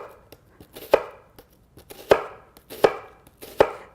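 A knife slices through an onion on a cutting board in a home kitchen, four crisp, evenly spaced chops with softer taps between them, close and clear with no talk.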